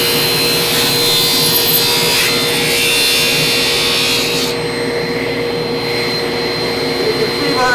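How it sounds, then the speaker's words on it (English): A table saw cuts wood with a loud, steady whine and rushing noise. It runs continuously throughout and eases slightly partway through the cut. "Like a Tablesaw."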